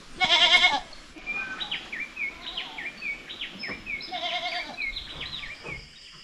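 Goats on a farm bleat excitedly at the sight of fodder, a loud call at first followed by a run of quieter, wavering bleats and chirpy cries from the herd.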